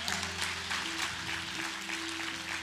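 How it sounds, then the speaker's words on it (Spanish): Audience applause in a church congregation, a steady wash of clapping that holds for a few seconds with some sustained tones underneath. "Un aplauso para Cecilia."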